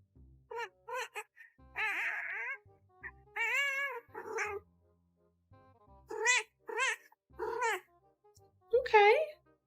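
A cat meows repeatedly in short, rising and falling cries with brief pauses between them, loud and close, several calls stretched across the stretch.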